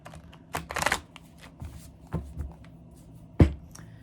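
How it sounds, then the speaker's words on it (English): Close-up rustling and riffling of tarot cards being shuffled in uneven bursts, with a sharp tap near the end and no talking. "just shuffling my cards here"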